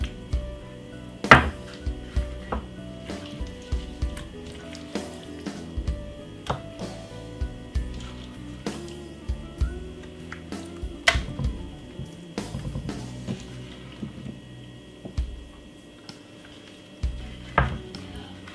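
An oven tray is handled while chicken breast is seasoned, producing scattered metallic clanks, taps and knocks of kitchenware throughout, close and fairly loud, with no one talking.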